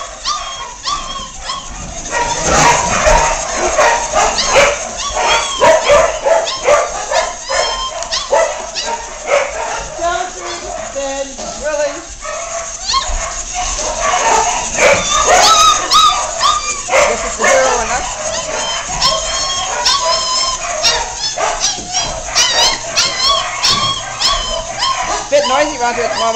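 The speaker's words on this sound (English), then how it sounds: "All the dogs want the new toy." Several dogs bark, yip and whimper excitedly over a new toy, the yapping dense and continuous throughout with a voice occasionally speaking underneath.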